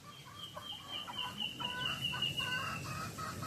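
Native chickens cluck steadily in a small netted range enclosure, several birds overlapping in a busy, continuous chatter with a higher crowing-like call running through, close by and moderately loud.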